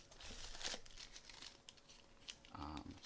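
Plastic packaging crinkles and tears as a PC power supply is unboxed, with crackly rustling bursts early on and a louder handling noise near the end, close to the microphone.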